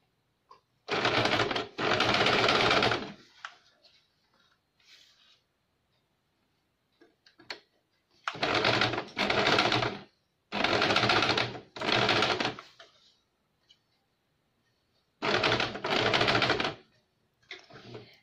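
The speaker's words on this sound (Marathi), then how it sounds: "मागच्या बॅक नेकला कडेकडेने टिपा मारून घेऊया" A sewing machine stitches along the back neck of a princess-cut blouse in bursts of rapid mechanical whirring lasting a second or two, separated by quiet pauses with small handling ticks.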